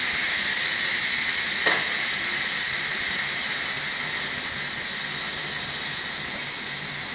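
A Silver Crest pressure cooker vents steam while its pressure drops, producing a steady close hiss that fades slightly over several seconds, with a brief tap partway through.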